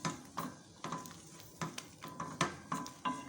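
Garlic-ginger paste fries in a pot and is stirred repeatedly. A spoon scrapes the pot in a regular rhythm of short strokes over a faint sizzle, close and fairly quiet, with no voices.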